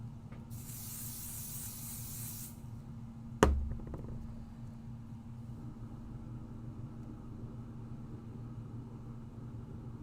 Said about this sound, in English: let's put a little pixie spray on here.